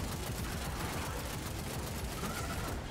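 Turrets fire in rapid sustained bursts during a Destiny 2 raid encounter, a dense continuous clatter of gunfire holding steady throughout.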